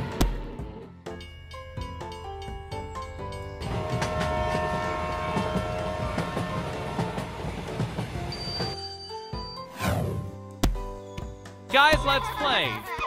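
A cartoon train rolls along with clattering wagon sounds and a horn-like tone, mixed with bright music and voices, steady and fairly loud throughout.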